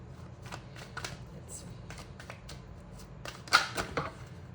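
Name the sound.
tarot cards being shuffled and flipped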